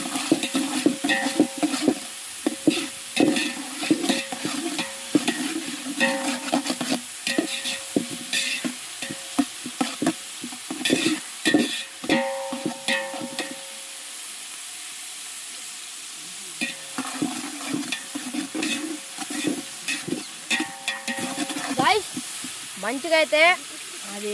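Onions fry in ghee as they are stirred, giving a constant sizzle broken by repeated rhythmic scrapes and clatters of the spatula, pausing briefly partway through before resuming.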